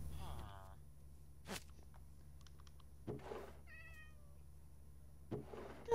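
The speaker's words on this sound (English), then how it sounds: "There's a kitty." A cat gives a short rising meow, then a second brief one, faint against a quiet indoor room with a few soft knocks and shuffles.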